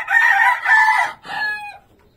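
A single rooster crows once nearby, a loud, clear cock-a-doodle-doo in three segments that trails off into quiet.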